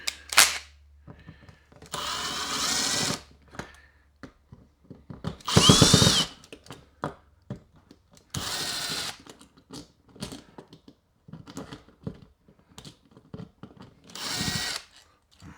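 A power drill whirs in several short bursts, separated by pauses filled with clicks, clatter and handling noises nearby.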